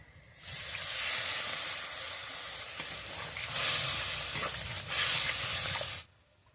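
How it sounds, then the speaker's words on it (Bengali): Water added to pointed gourd frying in spices with mango sets off a loud, close burst of hissing steam and sizzle that swells twice and holds for about five seconds before cutting off. "এবারে জল দিয়ে দেবো"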